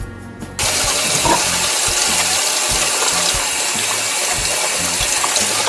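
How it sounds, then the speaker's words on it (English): Tap water gushes steadily and loudly at close range for handwashing before cookie baking, starting abruptly after a brief quiet moment and running without a break to the end. "let's go wash our hands."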